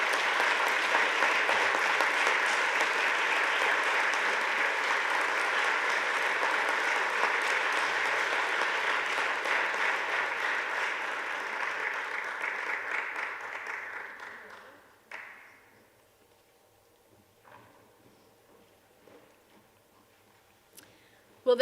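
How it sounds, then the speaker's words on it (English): A large audience at a spring honor society initiation ceremony applauds steadily and loudly for about fifteen seconds, then the clapping fades to near silence with a few faint sounds. "Please have a round of applause for our honorary initiates."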